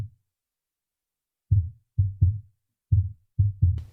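Sub kick drum recorded from a boxed sub kick mic, six deep punchy low thumps in an uneven pattern after a single hit at the start, loud and close with no other sound.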